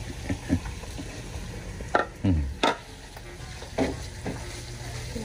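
Meat goes into a hot pan with onions and sizzles. A steady fry hiss runs underneath, broken by several sharp scraping stirs and clatters of a utensil against the pan.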